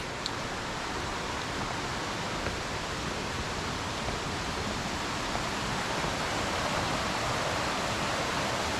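A flowing creek makes a steady, broad rushing wash of water, constant and fairly close with no breaks or voices.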